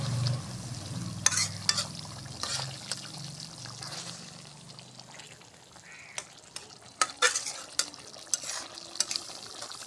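Pointed gourd (potol) curry frying in oil with a sizzling hiss, broken by irregular scrapes and clatters of a spoon stirring in the pan, close up with no talking.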